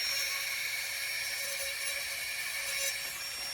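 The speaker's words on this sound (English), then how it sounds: "Now we take our drill and we go over the lines that we burn in." A rotary drill carves along burned-in lines on a stone gnome house, giving a continuous high-pitched grinding whine at close range, steady throughout with no talking.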